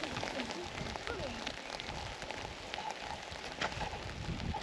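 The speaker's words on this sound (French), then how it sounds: "Alors, il pleut" Rain falls steadily outdoors at Saint Pierre Aumaitre, a dense, constant hiss and patter on surfaces with scattered drop ticks, while a person speaks quietly beneath it.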